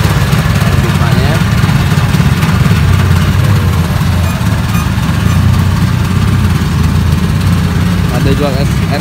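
A street food vendor's machine runs on an engine that feeds a pipe, giving a loud, steady low drone that continues without a break for nine seconds.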